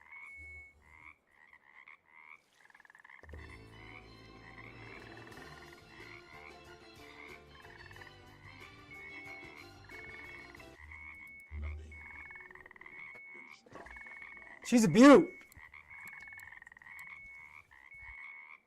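Frogs croak steadily in Russian Fishing 4 as a carp is landed, a rhythmic chorus running under a voice with a brief loud splash near the end.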